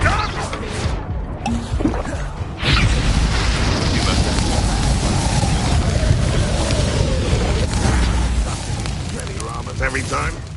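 The Confringo fire spell in Hogwarts Legacy goes off as a sudden loud burst, then a sustained roaring blast with crackling fiery texture, after an earlier brief magical whoosh.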